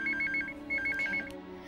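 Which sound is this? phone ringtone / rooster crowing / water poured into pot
phone ringtone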